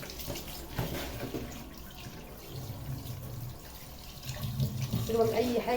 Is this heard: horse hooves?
no